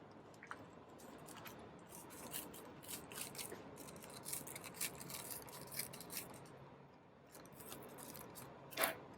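Scissors cutting parafilm used to seal a culture plate in a lab, faint crisp snips and rustling heard close up with no talk.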